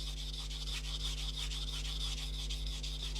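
A knife blade grinds on a coarse sharpening stone in a steady, rasping back-and-forth scrape, close and continuous over a low electrical hum.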